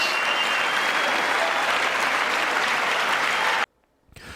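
Sustained loud applause from a packed chamber at a State of the Union address, steady and dense for several seconds before cutting off abruptly into near silence.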